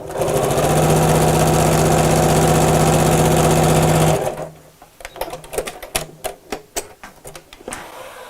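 A sewing machine stitches over the edge of a fabric Christmas stocking, a loud, steady mechanical whir for about four seconds that stops abruptly, followed by scattered clicks and handling taps.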